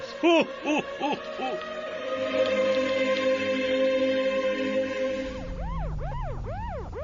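A police car siren wails in repeated rising and falling sweeps, loud and close, after a few short hooting tones at the start over a steady background hum.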